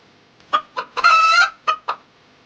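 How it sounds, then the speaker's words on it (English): A rooster's crow rings out between sharp clucks of a chicken, two quick clucks before and two after a sustained loud call, close and clear with no talking. "That's right. It's a chicken."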